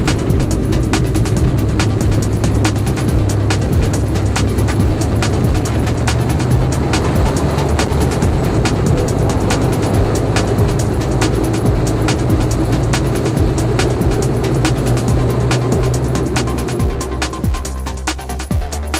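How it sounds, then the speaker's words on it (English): An aircraft lands on the ground in Antarctica near Byrd Camp. A loud, continuous engine roar and rumble fills the cabin nearly unchanged, easing slightly at the very end. "the landing was a little bumpy once we got down on the ground"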